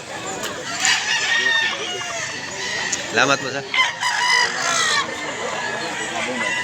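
White Kelso roosters at a market in Mantalungon, Cebu crow and cluck close by, with several overlapping calls. Someone speaks briefly among them.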